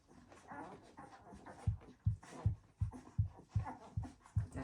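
Newborn puppies nurse, making rhythmic gulping and panting sounds in quick, regular pulses, close and fairly quiet, with soft whimpers mixed in.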